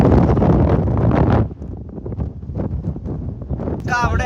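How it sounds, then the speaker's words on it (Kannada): Strong wind on the hilltop at Nandi Hills buffets the microphone with a loud roar that drops to gustier rumbling midway, while people talk nearby. "ಗಾಳಿ ಇದೆ"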